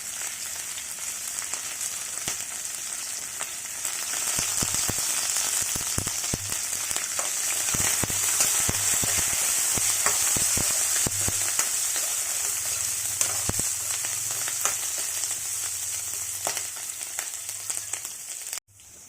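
Curry leaves, green chillies and spices fry in hot oil in a pan, giving a loud, continuous crackling sizzle up close, with scattered sharp pops and a few stirring scrapes that stop abruptly at the end.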